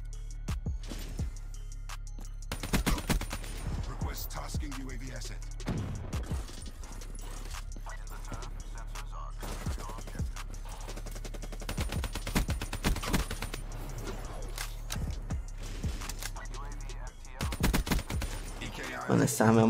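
Weapon fire in the Black Ops 3 video game, repeated sharp bursts of shots in quick clusters over steady game background noise, some bursts closely spaced like automatic fire, loud and near.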